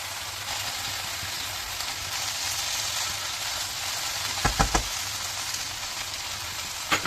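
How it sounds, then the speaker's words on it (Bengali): Vegetable noodles with soy sauce and tomato slices fry in a little oil, a steady, close sizzling hiss broken by a few sharp clinks of a utensil near the end. "এটা আমি অল্প তেলের মধ্যে রান্না করছি"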